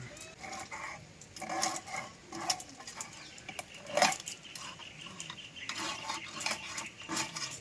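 A knife scrapes scales off a large fish in repeated short rasping strokes with metallic clicks, steady and close, with no talking.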